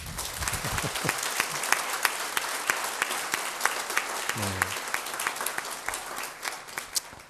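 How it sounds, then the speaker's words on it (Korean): A church congregation breaks into steady, sustained applause, a dense wash of many hands clapping evenly throughout, with a brief voice surfacing midway. "우리 하나님께 영광의 박수 한번 우리."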